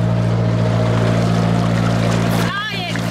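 A narrowboat engine runs hard at high revs while cruising on a canal, a loud, steady droning rumble with a voice cutting in briefly near the end.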